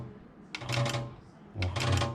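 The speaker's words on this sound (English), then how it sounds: "you will damage your pressure switch and make sound like this, on off" RO booster pump cycling rapidly on and off under its pressure switch, two short bursts of motor hum with clicky onsets about a second apart, close and fairly quiet.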